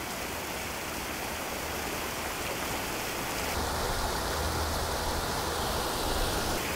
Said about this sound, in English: these are water features